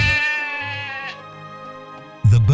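Sheep bleat while being watered: one long, wavering, nasal bleat holds for about two seconds, then a louder, closer bleat bursts out at the end.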